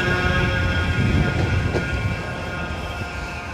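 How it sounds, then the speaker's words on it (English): A Manchester Metrolink tram stands at a platform, giving off a loud, steady rumble and electric hum that stays constant throughout with no pauses. "There's a tram right there on another platform."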